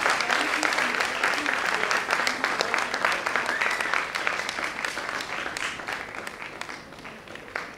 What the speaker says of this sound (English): Applause can be a little more loud, please.